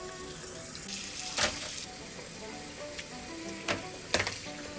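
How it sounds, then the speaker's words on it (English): Hot water runs from a kitchen tap while baby bottle parts are washed, making a steady nearby stream with occasional louder splashes and clatters of the parts, and no one speaking. "So we'll just wash it with hot water."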